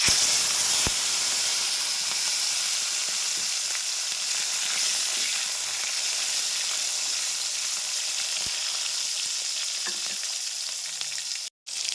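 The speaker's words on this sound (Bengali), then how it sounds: "এরপর দিয়ে দিলাম কেটে রাখা টমেটো আর কাঁচা লঙ্কা।" Chopped tomato and green chilli fry in hot oil for an egg dish, giving a steady, loud sizzle and hiss throughout with a few faint clicks, and no talking.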